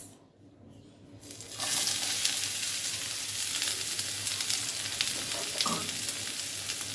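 Onion and garlic hit hot oil and break into a loud, steady sizzle that starts abruptly after a quiet moment and holds evenly, close up, with a small clink near the end.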